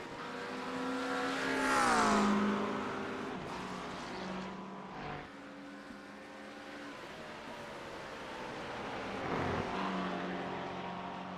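Race cars lapping the Brands Hatch circuit in the iRacing sim, with engines rising and falling in pitch as they pass, loud and continuous with one swell near the start and another toward the end.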